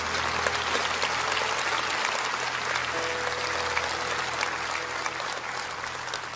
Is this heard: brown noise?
no